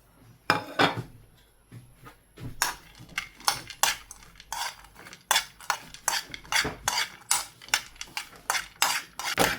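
Cashews, almonds and pistachios are roasted in a pan while being stirred, giving a quick run of sharp clinks and scrapes from the spoon against metal, close and fairly loud, with short gaps between strokes.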